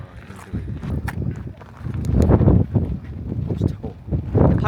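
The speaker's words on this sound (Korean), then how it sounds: "바람 불어서 막 삼각대 놓고는 못 찍겠다" Wind blows hard around people outdoors at a high lookout in the Kitakyushu–Shimonoseki area, a steady gusty rumble that swells and buffets the microphone while voices talk over it.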